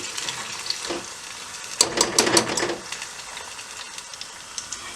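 Ingredients for homemade natural hair oil sizzle in a pan while being stirred, with a soft steady crackle and a louder cluster of scraping, hissing bursts in the middle.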